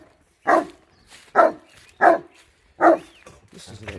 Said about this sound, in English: This is a little bark.